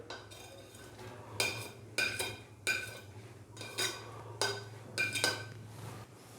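Finely chopped onions, three to four normal-sized ones, going into a pressure cooker for beef karahi: a series of sharp metallic clinks and scrapes of a utensil against the pot, about seven distinct knocks spaced irregularly, fairly quiet.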